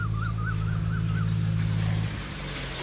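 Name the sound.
water pump motor running with flowing water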